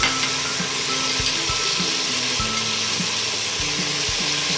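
Garlic paste frying in a pan for moti pulao, a steady close hiss and crackle of hot fat with a few soft stirring scrapes underneath, continuous throughout with no talking.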